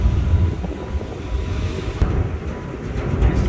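A car ferry out at sea, with a steady low rumble, gusting wind buffeting the microphone and the wash of ocean water running throughout, fairly loud and continuous with no talk.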